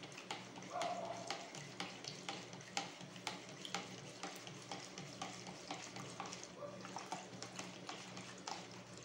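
Homemade Renex mixture stirred in a cup, a faint repeated scraping and clicking of the stirrer in a regular rhythm, close by and quiet, with no speech.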